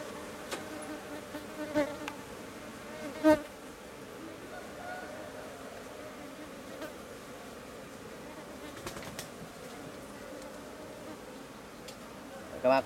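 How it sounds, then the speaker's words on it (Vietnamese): Dense honey bee colony buzzing at an open hive during longan-blossom honey harvesting, a continuous insect drone with a few louder passes of bees close by, as someone speaks quietly in the background. "Ong này đông quá kiểm tra cũng rất là khó"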